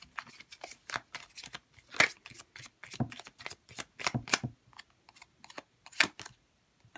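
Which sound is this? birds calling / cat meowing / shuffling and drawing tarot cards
shuffling and drawing tarot cards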